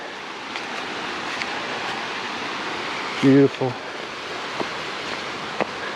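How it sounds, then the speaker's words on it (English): Bear Creek flows in a steady, even rush of water along a hiking trail and fills the whole stretch. Someone says a brief word near the middle. "This creek is just gorgeous."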